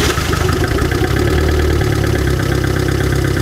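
A car engine runs with fresh oil added and no coolant in it, idling loudly and close with a steady rapid mechanical clatter and a low rumble throughout, and no talking.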